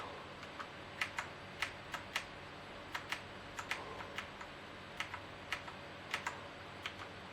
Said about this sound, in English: I think you can probably hear me tapping the keys